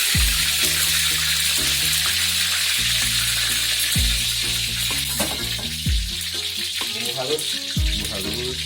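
Blended spice paste sizzles loudly in hot oil, a steady bright crackle with repeated low knocks and scrapes of stirring throughout.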